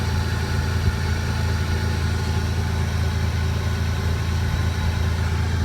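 A 2001 Toyota Tacoma SR5 Prerunner idles steadily. It is a clean engine with 173,000-odd miles and new wires, plugs and coils. The low, even rumble runs unbroken throughout with no voices.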